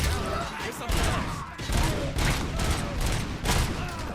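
Loud, rapid gunfire from the RoboCop Rogue City video game comes in dense, near-continuous bursts and volleys, with voices talking underneath.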